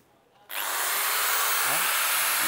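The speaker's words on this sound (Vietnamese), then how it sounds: "máy khoan 13 ly master đẳng cấp đàng hoàng" A Master 13 mm electric drill starts abruptly after a moment of quiet and keeps running with a loud, steady high whine.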